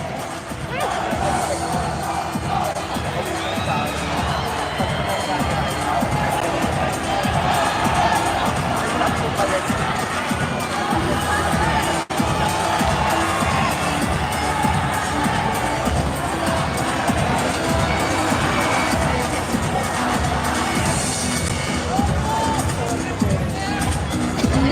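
Large crowd at a beauty pageant cheering and shouting continuously, with children's voices and babble mixed into a loud, sustained roar that barely dips throughout.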